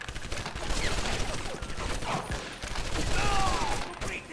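Dense gunfire from the Medal of Honor: Vanguard video game, a sustained rattling barrage with sharp bursts that fills the whole stretch, while a player talks over it.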